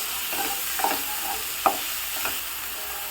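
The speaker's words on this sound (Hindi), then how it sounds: "इसमें हमने चॉप किए हुए अनियन डाल देने हैं।" Chopped onions frying in a little oil until light brown, a soft steady sizzle with a few spoon scrapes and light taps against the pan, close and without talk.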